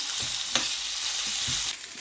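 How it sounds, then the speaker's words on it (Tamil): Loud, close frying sizzle as curry leaves crackle in hot oil, a steady hiss with a few sharper pops, no voices. "இதோட கொஞ்சம் கறிவேப்பிலையும் போட்டு நல்லா இதை வதக்கி எடுப்பாங்க"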